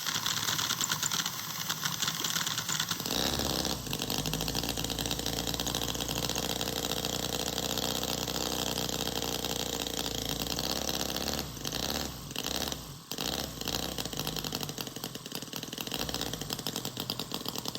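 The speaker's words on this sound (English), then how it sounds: "Let me mix up some 25:1, and you know what we want to do, we want to start her up." A miniature Harley-Davidson V-twin Knucklehead model engine runs steadily with a buzzing, rapid rumble and a couple of brief dips near the end, fairly faint and close.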